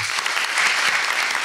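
Audience applause at a textile art conference panel, a dense, steady wash of clapping from a crowd filling the short moment without voices.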